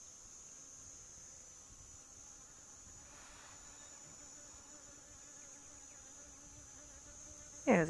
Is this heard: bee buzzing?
yes